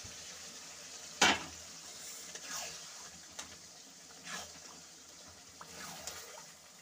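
Mutton pieces sizzle and crackle quietly in a hot pan of oil with whole garam masala and peeled garlic for a Bengali-style mutton kosha, a soft steady hiss with one sharp clatter near the start.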